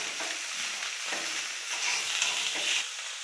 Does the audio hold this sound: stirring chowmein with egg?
yes